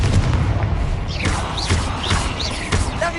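Confringo blasting spell from Hogwarts Legacy, heard as loud, rolling booms and thuds layered in dense combat noise with whooshing effects, close and continuous.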